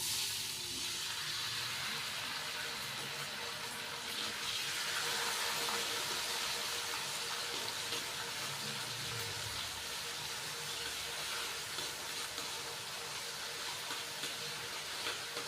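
Water splashed into ginger-garlic paste frying in a pan for bhuni moong dal, giving a steady, close hiss of sizzling steam that runs on without pause and with no talk.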